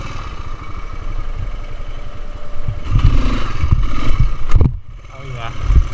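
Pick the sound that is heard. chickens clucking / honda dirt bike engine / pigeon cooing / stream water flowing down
honda dirt bike engine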